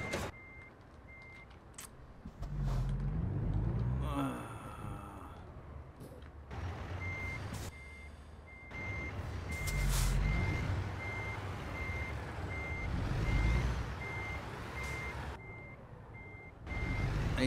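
An American Truck Simulator truck reversing while turning its trailer gives a steady repeating beep over a low diesel rumble, with air brake hisses and the engine rising and falling between shunts.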